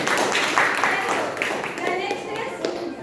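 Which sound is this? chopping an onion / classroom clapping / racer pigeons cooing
classroom clapping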